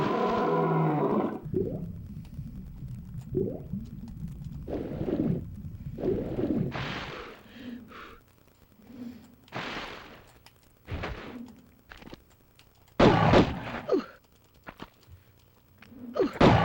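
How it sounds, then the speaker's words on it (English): A bear in the Tomb Raider video game roars and is shot, with growls and sharp gunshot bursts spread across the clip, some loud close hits among quieter gaps. "Yeah, shoot the bear."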